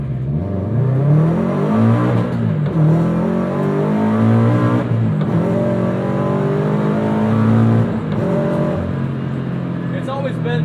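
A supercharged 2013 Scion FR-S engine pulls hard through the revs, its note climbing steadily with brief dips at gear changes, loud and close throughout.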